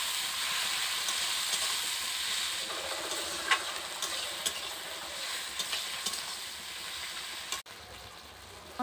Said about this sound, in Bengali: সব একসঙ্গে কষে নেব।